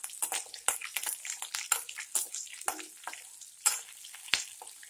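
Small shallots sizzle and crackle in a hot pan as the base for a carrot chutney, with a steady close frying hiss and occasional stirring clatters and no talk.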